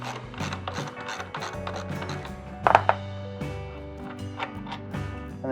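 A T45 Torx bolt is removed from the foot peg on a KTM 890 with a ratchet, producing close, quick clicking and metallic ticks with a brief louder clatter in the middle.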